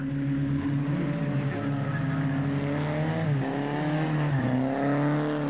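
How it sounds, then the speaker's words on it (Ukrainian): A car drifts in a parking lot near a museum estate, its engine droning loudly with rising and falling revs and sustained tyre noise, recorded from a distance with no talk. "камери відеоспостереження ситуаційного центру дрифт на стоянці для автівок"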